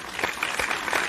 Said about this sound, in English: A round of applause as we welcome the Special Political Advisor to His Excellency, Mr. Pierre.